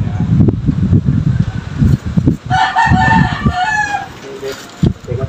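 A mother hen from a line of fighting cocks clucks near the microphone while a rooster crows loudly in the middle of the clip, over a constant hum that sounds like a fan.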